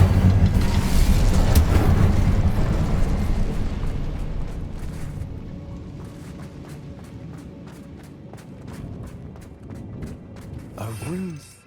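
An Incendio fire spell is cast in Hogwarts Legacy, giving a loud roaring whoosh of flame that slowly dies down over several seconds, followed by quieter crackling and a short rising magical tone at the end.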